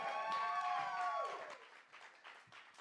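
An audience at a live show at The Bedford applauds for a singer, with a sustained wavering cheer or whoop riding over the clapping before the applause thins out.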